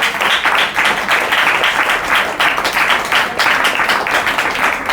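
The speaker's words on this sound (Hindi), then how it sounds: "सही बात है, ताली बजाओ अपने आप के लिए।" A church congregation at a Hindi preaching service breaks into dense, sustained applause, many hands clapping loudly and continuously with faint voices mixed in.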